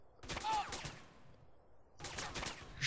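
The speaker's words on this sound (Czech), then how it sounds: "Na mě střílí z kilometru a trefujou se." Two loud bursts of rapid gunfire in GTA: San Andreas, separated by a brief quiet pause, crackling close by.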